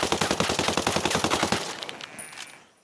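An AK rifle fitted with a muzzle brake and angled foregrip fires a fast automatic burst from the hip in Ghost Recon Breakpoint, about a dozen sharp close shots for a second and a half, then a fading echoing tail.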